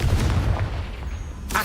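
A Confringo fire spell blast in the Hogwarts Legacy video game booms with a heavy low-end rumble that decays over a second, followed by a sharp new burst at the end.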